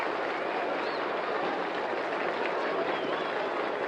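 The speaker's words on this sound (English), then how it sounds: "a round of applause is for Hal Newhouser as he comes striding up to the plate" Crowd applause at a 1945 World Series baseball game between the Cubs and Tigers, a steady, dense wash of clapping and crowd noise filling the whole stretch, distant and hissy like an old broadcast recording.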